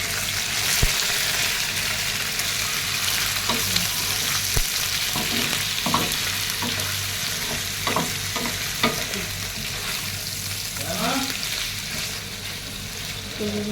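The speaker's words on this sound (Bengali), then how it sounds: "কলিজা ভাজা হবে।" Pieces of beef or goat liver, cut large but thin, fry in a pan with already fried onions, a loud continuous sizzle broken by repeated scraping and stirring clanks of a spatula.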